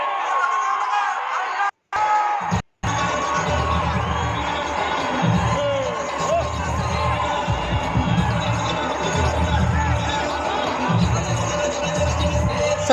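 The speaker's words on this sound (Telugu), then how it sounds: "అతన్ని రిసీవ్ చేసుకోవడానికి జనం చూడండి ఎంతమంది ఉన్నారు" A large crowd in Palakonda waits for Pawan Kalyan to arrive, with a continuous roar of cheering, whoops and shouting over outdoor noise, broken by two brief dropouts near the start.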